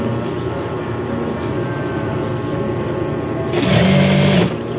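Sewing machine stitching fabric seams and doubling over corners, a steady whirring drone that runs throughout and swells louder near the end with a brief tonal buzz.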